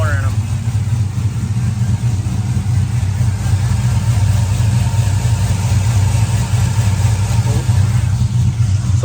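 A car engine with a lopey TSP Chopacabra camshaft, Speed Engineering long-tube headers and full exhaust idles loudly and close by, a steady low rumble with an uneven loping pulse throughout.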